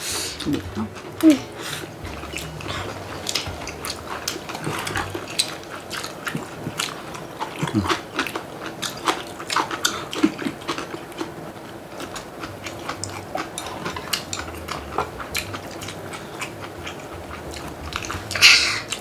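Close-up chewing of mung bean pancake at a family holiday meal, with repeated soft crunches and moist mouth sounds in irregular bursts, under occasional talking.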